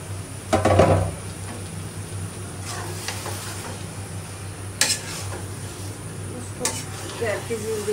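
Beef curry with spices is stirred in a cooking pot, producing a steady low sizzle with occasional scraping clanks of the spoon against the metal pot, fairly faint and close.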